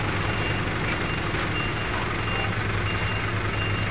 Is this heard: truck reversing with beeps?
yes